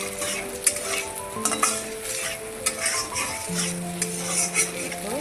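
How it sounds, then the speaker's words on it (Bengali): Chow mein noodles frying in oil in a pan, a continuous close sizzle broken by repeated metal stirring scrapes and clinks of a utensil against the pan, no talk. "এই চাউমিনগুলো আস্তে আস্তে হয়ে যাচ্ছে সবগুলাই ভেজে নিচ্ছি"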